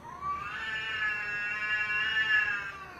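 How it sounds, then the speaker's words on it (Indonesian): Cats caterwauling during a fight, a drawn-out, wavering yowl that rises and holds, loud and close, with no talk over it. "ketiduran yang diiringi suara kucing lagi gelut"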